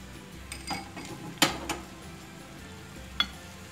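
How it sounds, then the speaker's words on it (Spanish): Apple pieces sauté in melted butter in a pan for a no-bake apple tart, giving a soft, steady sizzle broken by a few sharp utensil clinks and stirring scrapes against the pan. "Y saltear la manzana en la mantequilla."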